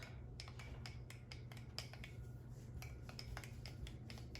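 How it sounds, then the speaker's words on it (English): A spoon stirs cream into a cup of decaf Arpeggio espresso, giving off a quick run of faint, light clinks and taps against the cup over a steady low background hum. "let me grab a spoon and stir that up"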